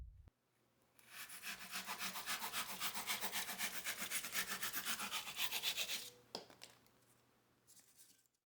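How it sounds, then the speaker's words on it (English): A coping saw cuts with quick, even back-and-forth strokes for about five seconds, close and fairly loud, then stops. Nobody speaks. "A coping saw works well for sawing off small or awkward pieces and for rounding corners."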